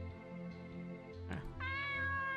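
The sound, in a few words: cat meowing in the video game Lucidity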